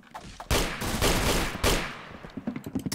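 Gunfire in the Roblox shooter Arsenal, with a dense burst of rapid shots lasting about a second, then a second burst and scattered fading pops, loud and close.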